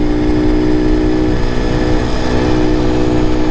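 An Ice Bear Honda CT70 clone motorcycle runs flat out at full throttle on a slight downhill, its small single-cylinder engine giving a loud, steady, close-up drone with a buzzing whine throughout, and no voice over it.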